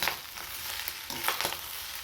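Egg rice is stirred in a hot pan, with a soft frying hiss under several quick, scraping strokes of the spoon, close and unaccompanied by voices.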